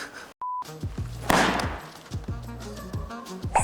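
A balloon bursts with a loud, sharp bang as someone sits on it during a loudness challenge, followed by scuffling and brief voices nearby.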